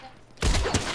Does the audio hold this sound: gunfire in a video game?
yes